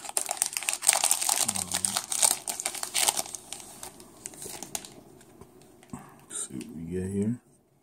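Crinkly plastic wrapper of a trading card pack being cut open with scissors, close and loud with rustling and snips, then a few louder crumples near the end.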